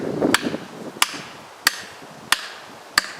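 Tent stakes hammered into rocky ground as hard as concrete, five sharp metallic strikes at an even pace about two-thirds of a second apart, close and loud, with faint rustling before the first blow.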